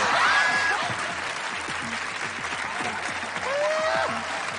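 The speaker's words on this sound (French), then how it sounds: "on peut applaudir nos volontaires" Audience applause for hypnosis volunteers at a stage hypnosis show, steady dense clapping filling the whole stretch, fairly loud and close, with a few faint whistle-like tones rising over it.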